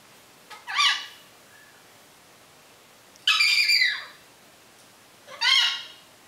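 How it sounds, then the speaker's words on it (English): A bird calls outdoors in three separate bright, squawking bursts spaced a couple of seconds apart, moderately loud against a quiet background hiss. "There's a bird."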